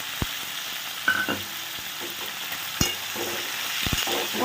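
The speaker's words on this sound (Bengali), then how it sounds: "এটা ভাজা হতে থাকে।" Chopped onions fry together with shrimp in a pan over a low-to-medium flame, a steady close sizzle broken by a few sharp spatula scrapes and clicks.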